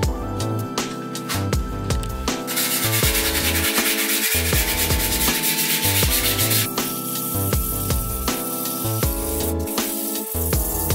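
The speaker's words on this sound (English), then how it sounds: "sand this down a little bit just to let it blend in on the sides" Continuous sanding of a patched bathroom wall, a steady scratchy rubbing that runs loud and close throughout with no pauses and no talking.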